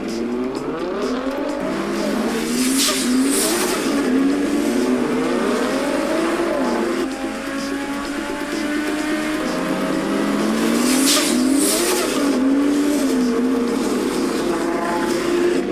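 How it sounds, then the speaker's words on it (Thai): Race cars accelerating hard and overtaking one another in a race, loud engine notes climbing and falling in overlapping sweeps, continuous and close throughout. "ตอนนี้เวเร่งแซงเบียดวินเนอร์มาได้สำเร็จแล้วครับกลุ่มผู้นำยังคงขับเคี่ยวกันอย่างดุเดือดครับ"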